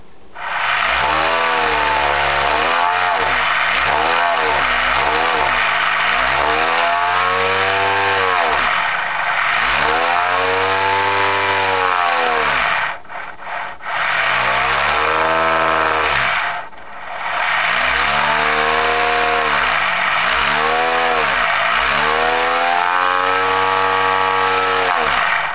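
A homemade two-magnet electric motor runs fast on 24 volts, giving a loud, steady whine that rises and falls in pitch, with a brief dip near the middle. No voices are heard.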